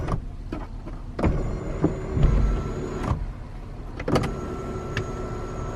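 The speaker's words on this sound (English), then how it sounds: "This vehicle also does have a sunroof with a push and tilt feature." The sunroof of a 2019 Honda Passport Elite is pushed open and tilted, with a soft electric motor whir among interior clicks and a few sharp clunks close by.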